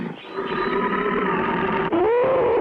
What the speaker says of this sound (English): It didn't take long before the Terrible Tiger appeared.